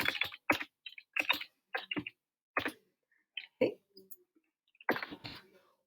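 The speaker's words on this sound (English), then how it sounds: "I'm going to need to type in my first name and my last name and my email" Keys on a computer keyboard are tapped while a name and email are typed into a sign-up form. The clicks come in quick clusters separated by short pauses and are close and fairly clear.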